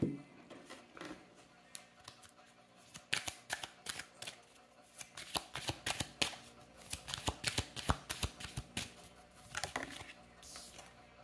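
Tarot cards are shuffled and handled close by in soft, rapid bursts of papery flicks and riffles, continuing in uneven clusters for several seconds without talk.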